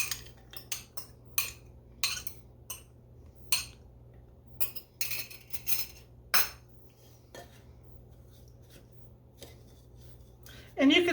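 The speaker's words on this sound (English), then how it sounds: "So what I did is I mixed the onion up in that so it kind of coats it" Chopped onion being mixed into hush puppy batter in a bowl, a run of scraping, clinking utensil strokes at an uneven pace that thin out toward the end, with a louder clatter at the close.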